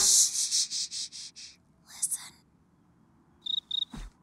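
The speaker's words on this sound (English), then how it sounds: "Arcata domesticus, the house cricket." House cricket chirping from a television in a cartoon living room: a run of rapid, loud shrill pulses, then a couple of short bursts after a pause and three quick chirps near the end, with a soft thump.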